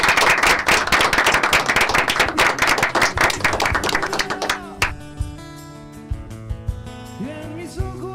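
Studio audience applause closing a Spanish-language youth TV program, dense clapping for about five seconds before giving way to music.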